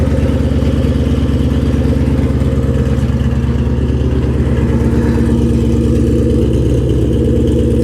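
Shelby GT500 Mustang engine running with a loud, steady low rumble, close up, holding a constant throbbing idle throughout.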